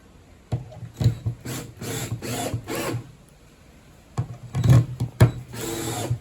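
A power drill drives screws through a front frame into the edge of a wooden deck on a small 9.5-foot punt-style boat, with bursts of whirring and grinding separated by short pauses and workshop handling noise.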